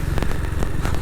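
A 1959 BSA motorcycle idles in sub-zero cold at about -3 °C in the village of Old Hurst, giving a steady, low, close-up tickover rumble with a faint regular pulse and no voices.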